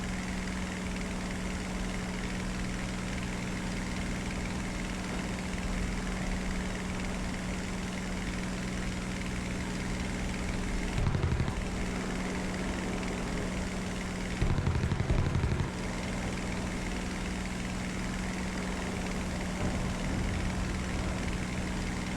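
Steady drone of a German tier 1 biplane engine in an air-combat video game, a constant low hum with a strong steady tone, running alone throughout with two brief louder bursts partway through.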